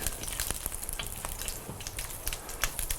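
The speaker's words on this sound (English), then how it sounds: "I'm going to wait till these fry." Food fries in a pan with a dense, steady crackling sizzle and sharp popping spatters throughout, close and fairly loud, with no voices.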